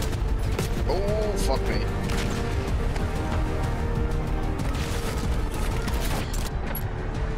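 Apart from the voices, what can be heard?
AK rifle gunfire in Call of Duty video game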